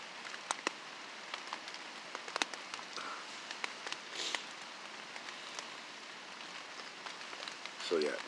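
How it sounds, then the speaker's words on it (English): Rain patters steadily on a tarp over a camp shelter in a thunderstorm, a dense hiss of drops with scattered louder taps, heard fairly close and alone. "It's the sound of the rain hitting the tarp and the thunder and the lightning."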